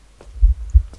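Heartbeat in the Slender video game, 7th Street map: a deep, close double thump, loud and low, pulsing once in the quiet.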